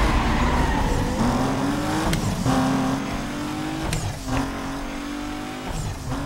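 Race car engines roar continuously in Need for Speed Most Wanted, with rising gear pitches, shifts and brief tire squeals over a loud, dense game mix.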